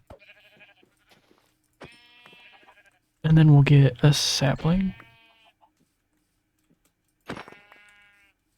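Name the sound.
sheep bleating in the video game Minecraft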